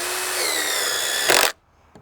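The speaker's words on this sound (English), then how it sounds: "I'm going to go ahead and run a 3-inch deck screw in here and just hold it in place" A drill drives a 3-inch deck screw into a wooden guardrail post, a close, loud whirring run that rises in effort, ends with a brief burst of strain, then cuts off to near silence and a small click.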